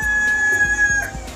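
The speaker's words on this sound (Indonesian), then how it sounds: "suara ayam" A chicken crows close by in one loud, drawn-out call.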